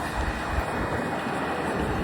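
Wind roars across the microphone in a dense, constant rush with low rumbling buffets.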